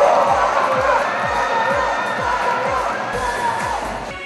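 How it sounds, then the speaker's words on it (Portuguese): A crowd cheers and whoops loudly for older women walking a pageant catwalk at a senior beauty contest in Maringá, a continuous roar of voices carrying the whole time. "E a torcida incentiva cada uma delas."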